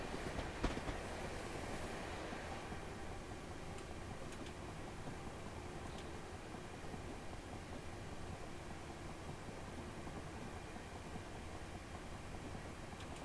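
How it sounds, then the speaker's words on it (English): A Freightliner Class 66 locomotive in Train Simulator rumbles along the rails with a continuous, steady rolling drone and faint wheel clatter, quiet and even throughout with no talking. "And there's a Freightliner Class 66."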